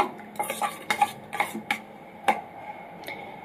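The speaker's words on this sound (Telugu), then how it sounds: "ఇలాగా ఒక 2 మినిట్స్ అయితే బాగా మిక్స్ చేసేసాను." Bread omelet egg mixture being stirred in a bowl, with a string of sharp, close clinks and taps of a utensil against the bowl at an uneven rhythm over quiet background, no voices.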